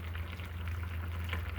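Milk simmers and bubbles in a pot while being stirred for homemade pudding, a soft steady bubbling hiss heard close and fairly quiet, with no talking.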